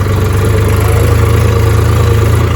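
A Mahindra Yuvo Tech+ 415 tractor engine runs close and loud, a steady throbbing diesel chug with a fast, even pulse and no talking.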